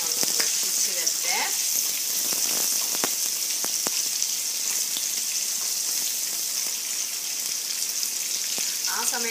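Two green chillies sizzle and fry steadily in hot oil in a pan, part of making malai kofta, a constant close crackle with a few light stirring clicks and no talk.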